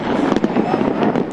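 New Year's Eve fireworks over Melbourne crackle and pop in dense, continuous bursts, loud and close, with a busy crowd murmur blended underneath.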